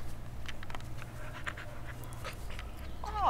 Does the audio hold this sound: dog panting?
yes